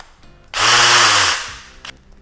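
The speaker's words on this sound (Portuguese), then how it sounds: "Agora ela é uma lixadeira." A multi-head electric power tool, fitted with its sanding head and used on a table, whirs up loud and close for under a second, then winds down, followed by a brief clack.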